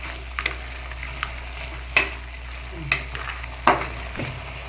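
Greens sautéed in a pan for pepper tomato chutney give a few sparse, sharp scrapes and taps over a low steady hum, fairly quiet and without speech.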